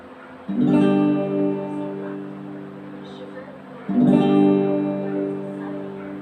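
Two strummed acoustic guitar chords, each ringing out and slowly fading, spaced a few seconds apart, close and clear.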